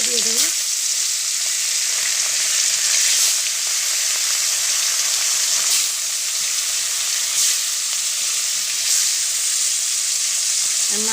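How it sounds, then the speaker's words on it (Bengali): Pieces of rohu fish fry in hot oil in a kadai wok, giving a loud, dense, continuous sizzle that holds steady throughout, with a few brief clicks. "মাছগুলো একটু ভালো করে ভেজে নেব।"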